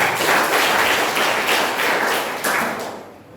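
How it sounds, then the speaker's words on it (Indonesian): Applause from a church congregation during a sermon, a dense steady patter of many hands clapping together, loud and close, fading toward the end. "Tepuk tangan untuk Tuhan."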